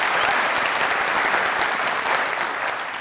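Loud, dense studio audience applause on a TV comedy show, a steady sustained wash of clapping hands filling the whole moment with no talk over it.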